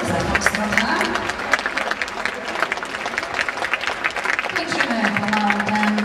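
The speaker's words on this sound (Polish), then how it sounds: "Brawa dla Państwa za tą stronę." Audience applause at a youth ballroom dance championship in a hall, a sustained crowd clapping, moderately loud and dense, mixed with some voices and a background hum.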